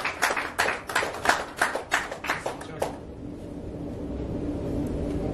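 A short burst of applause for the chief managing director at a fashion channel logo and promo launch, quick distinct claps for about three seconds that stop abruptly, leaving quiet room tone.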